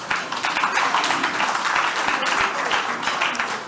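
Conference audience applauding at closing remarks, a dense, steady wash of many hands clapping, loud and sustained throughout with a few sharper individual claps standing out.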